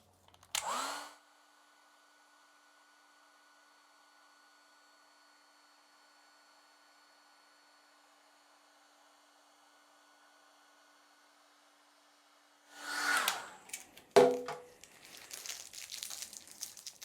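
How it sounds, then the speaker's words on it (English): A hairdryer blows hot air over watercolour pigment on paper, starting with a short burst, then running as a steady whirring tone for about twelve seconds before switching off amid handling noises. "I'm going to use my hairdryer to heat up the pigment so that when I go to get this off"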